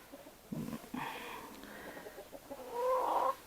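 Chickens cluck inside a farm coop, a few short clucks followed by a longer, louder drawn-out call near the end, close by and with no talking.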